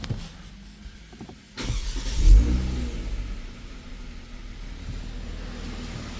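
A Kia Stinger with a low fuel pressure fault cranks and fires, its engine catching in a loud burst of revs that settles into a steady idle, heard close with no talking.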